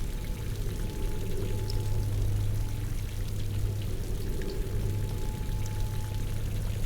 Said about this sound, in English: It's soothing to sit here for a while and just listen to the water.